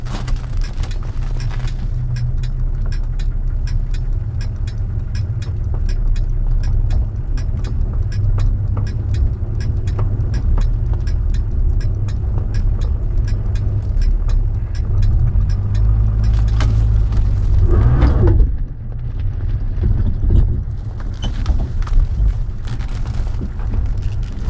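Rover P4 car driving on a cold day, its steady low engine rumble and road noise continuous throughout, swelling briefly near the end as it pulls away.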